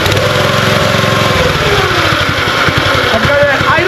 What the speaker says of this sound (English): Let's start the mower quick.